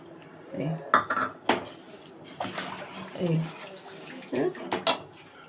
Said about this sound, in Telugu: ego onions, 1 cup onions వేసేస్తున్నా